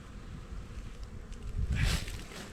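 Honeybees pour out of a hive in a swarm, a dense continuous buzzing hum that swells louder toward the end as the bees move close by.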